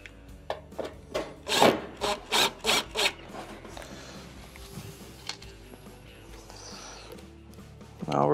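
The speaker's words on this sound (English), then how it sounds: "Put one screw in and tighten it" Screws go into and are tightened on a Maytag stove panel, heard as a close series of short scraping, rasping turns of a screwdriver in quick succession, followed by quieter handling noises and a last rasp.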